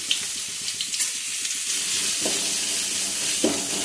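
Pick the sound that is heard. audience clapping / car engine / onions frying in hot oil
onions frying in hot oil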